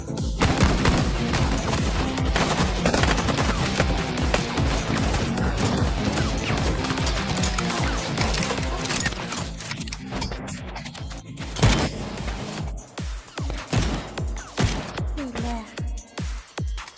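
Animated-series gunfire in a French fandub sounds as a continuous, loud barrage of rapid shots that thins into scattered bangs, mixed with crashes and voices.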